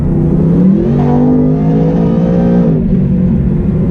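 A 2018 Ford Mustang with a Stage 2 Whipple supercharger and 10R80 automatic revs and accelerates steadily, with a rising supercharger whine riding above the loud, continuous roar.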